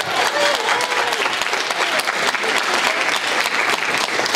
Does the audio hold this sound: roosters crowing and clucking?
no